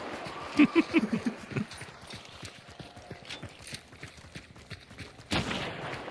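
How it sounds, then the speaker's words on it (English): Gunshots in Hunt: Showdown, a cluster of sharp reports among a run of clopping hoof-like impacts, followed by a louder burst near the end. "I'm gonna let out my frustration by shooting you."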